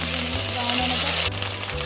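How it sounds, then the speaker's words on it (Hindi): Ginger garlic paste fries in hot onion-flavoured oil, giving a dense, continuous close sizzle with a few soft stirring scrapes. "तो ये अब हम इसको अच्छे से भूनेंगे अदरक लहसुन के पेस्ट को।"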